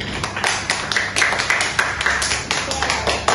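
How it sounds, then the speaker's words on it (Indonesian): A group clapping together in a quick, steady rhythm, many sharp claps in a row with some voices mixed in. "Beri tepukan untuk Dona."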